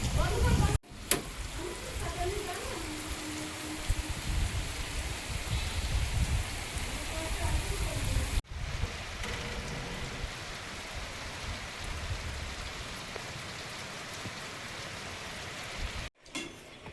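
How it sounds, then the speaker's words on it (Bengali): Heavy rain pours down steadily and close by, a dense, continuous patter that is briefly cut twice, with a voice faintly present at times. "বৃষ্টি আসতেছে শাঁসা করে"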